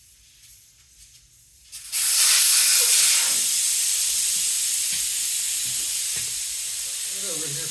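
Air rushes from a tire as its valve stem is pulled during a home tire change: a loud, steady broadband hiss bursts in after a quiet opening and keeps going, easing only slightly toward the end.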